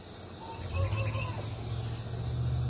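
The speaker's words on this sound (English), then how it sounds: "Cue the rooster." A rooster strutting in a yard at sunrise lets out a brief, fairly distant crow over a steady high insect drone and low outdoor rumble.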